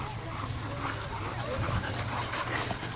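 A Brittany spaniel whimpers and pants softly in short, uneven bursts against a steady low background hum.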